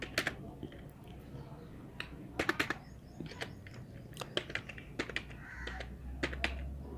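Typing on a computer keyboard in Microsoft Word produces irregular quick key clicks, some in short runs, close and crisp over a low room hum, with someone speaking quietly in places.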